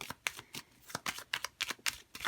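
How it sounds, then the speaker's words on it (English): Tarot cards being shuffled by hand in a run of quick, crisp riffling bursts and soft slaps, close and clear with no talking. "I'm going to keep shuffling."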